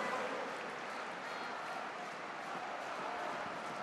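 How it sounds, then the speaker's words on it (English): Football crowd at a Middlesbrough home match against Sheffield United applauding a substituted teenage player, steady dense clapping spread across the stadium at even volume throughout. "Isaiah Jones joining in the applause for the teenager."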